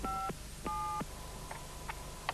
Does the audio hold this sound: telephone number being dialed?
yes